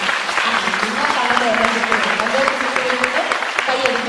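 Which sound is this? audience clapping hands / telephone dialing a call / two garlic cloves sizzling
audience clapping hands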